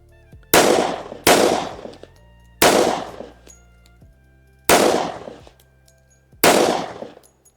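Five loud, sharp gunshots from a Turkish Baliki .45 ACP 1911 pistol at a shooting range, spaced roughly a second or more apart, each with a ringing decay and no talking.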